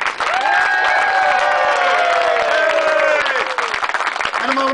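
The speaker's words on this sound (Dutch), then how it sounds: "En dan een heel applaus voor deze man." Audience applause and cheering for a man being handed a DVD at a Frisian acoustic band's DVD presentation, steady and loud for nearly five seconds, with whistles and voices rising over the clapping.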